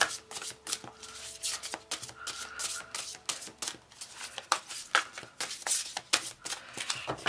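Large oracle cards being shuffled by hand, rapid papery flicks and riffles in repeated bursts, close and crisp with short pauses between runs.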